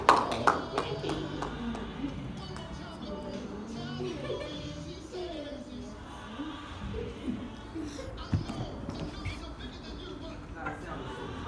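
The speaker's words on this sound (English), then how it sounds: "Give God a hand clap." A church congregation claps along in praise, scattered hand claps sounding over a busy room with chatter, children's voices and background music.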